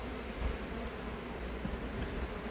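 Bees buzz around a tree hive as a dense, continuous swarm hum, fairly close and steady throughout with no talking.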